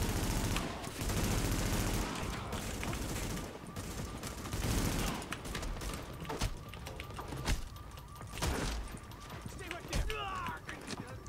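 Gunfire in Tom Clancy's The Division, loud bursts of rapid shots and scattered single cracks with heavy impacts, mixed with game noise while people talk over the action.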